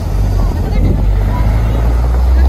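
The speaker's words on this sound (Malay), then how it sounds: "Angin kuat sini." Strong wind blows outdoors on a snowy day in Japan, a loud, constant low roar buffeting the microphone throughout.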